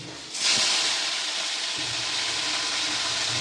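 Sea pomfret (chanda) fish drops into hot oil in a pan and sets off a sudden loud sizzle that stays strong and steady close by.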